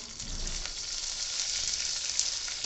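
Curry leaves sizzle in hot oil in a pan for tempering, giving a steady close hiss and crackle that holds throughout at moderate volume.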